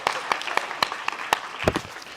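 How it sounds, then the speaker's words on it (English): Sparse, scattered applause from a small audience at the SASN Annual Awards 2024, a handful of separate claps with uneven rhythm, fairly close and moderate in level. "Round of applause for Christian Rodriguez."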